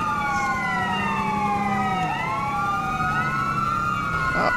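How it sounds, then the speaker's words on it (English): Several police sirens wail and overlap in the GTA V LSPDFR mod, on Texas DPS patrol vehicles during a prison breakout chase, loud and continuous, with rising and falling tones layered over a steady engine rumble. "I don't need any siren on, I got more enough noise from all the others."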